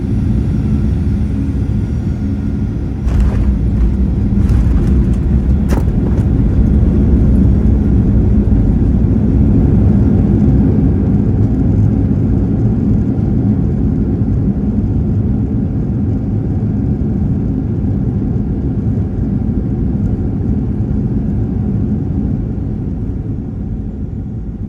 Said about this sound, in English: So now please enjoy the approach and landing into KLIA.